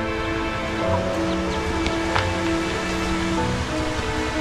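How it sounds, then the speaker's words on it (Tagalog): Heavy rain pours steadily on surfaces in a Filipino barangay, a dense, constant hiss with no breaks. "Actually sobrang ulan nga po eh."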